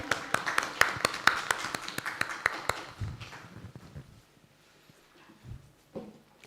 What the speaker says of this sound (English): Let us clap for our friend.